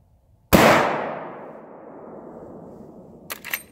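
A single loud rifle shot from a Marlin rifle cracks sharply and rings off in a long fading decay, followed by a brief metallic clatter near the end.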